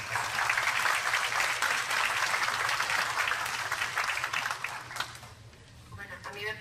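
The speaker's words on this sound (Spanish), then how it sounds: "un fuerte aplauso para Doña Carla" Audience applause at an evening talk on sexualities, a dense steady clapping wash that holds for most of the clip, then thins and fades near the end, with voices mixed underneath.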